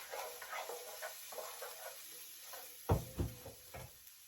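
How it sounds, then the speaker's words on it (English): Faint crackling sizzle of shallot frying in a pan, low and steady, followed by a few louder knocks and clatters of utensils or cookware near the end. "Just cook that shallot for a moment before I add in the bacon."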